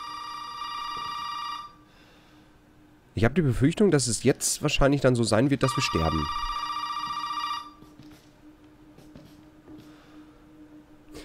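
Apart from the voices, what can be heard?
telephone ringing in video game Resident Evil 7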